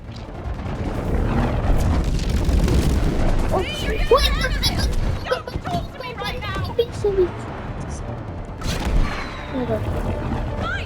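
Gunfire and bomb explosions in the co-op video game Split Fiction, during a car chase level, with loud booms and bursts in rapid succession under excited talk.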